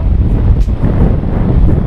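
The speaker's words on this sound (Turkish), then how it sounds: "Biraz rüzgar başladı açıkçası." Strong wind buffets the microphone in a continuous low roar, loud and steady throughout without any voices, outdoors on a cycling tour in Gökçetepe Nature Park.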